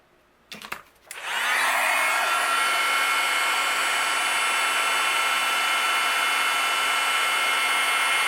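A heat gun blows a steady, loud, even whir from about 1.5 seconds on, melting white embossing powder on card corners. It starts after a couple of brief clicks and handling knocks.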